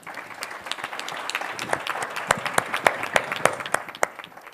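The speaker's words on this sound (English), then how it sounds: "And thank you for clapping for them" An audience claps for a group of women at a gathering, scattered hand claps building into steady applause, moderately close with sharp individual claps standing out.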